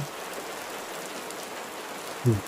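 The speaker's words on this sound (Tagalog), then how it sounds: "Lalagay ko nga sa background na ulan" Steady rain falls at a cemetery, a soft continuous hiss of drops on surfaces throughout, with a brief louder thump near the end and no talking.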